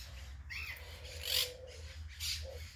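A parrot squawks indoors at the Tatú Carreta zoo, giving a few harsh, rasping calls close by over a low background hum.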